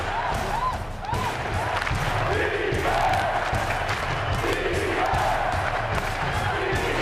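Dense, roaring basketball arena crowd of Cleveland Cavaliers fans cheering steadily through an NBA Finals game against the San Antonio Spurs, with faint shouts and a commentator talking over the noise.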